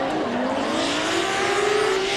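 Drift cars battling at Manfeild during a D1NZ round, a Toyota GT86 giving chase, engines revving loud and rising in pitch under a layer of tire noise, continuous and close.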